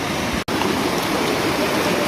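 Fast-flowing snowmelt river, icy cold straight off the mountain snowpack, on Arizona's Salt River: a steady, dense rushing roar close by, broken only by a split-second dropout near the start.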